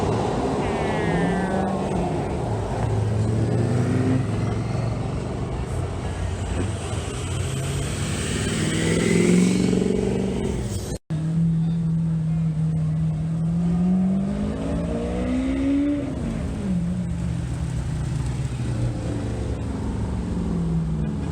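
An overpowered van at a Caffeine & Octane car meet revs its engine in loud, rising and falling surges, with steady outdoor crowd noise running underneath throughout.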